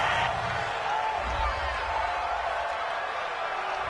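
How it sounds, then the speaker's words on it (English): A football stadium crowd roars in disapproval at a roughing-the-passer penalty during a Saints vs Lions game, a dense, sustained wash of distant voices filling the space evenly. "this crowd does not like that call"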